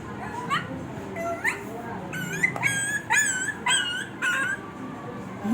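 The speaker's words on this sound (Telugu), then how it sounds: "కుక్క పిల్ల తెచ్చుకున్నాడు గాయస్ కానీ అది ఎప్పుడు అరుస్తూనే ఉంటుంది." A puppy whimpers and yips in a string of short, high, rising cries, close by, with some background voices underneath.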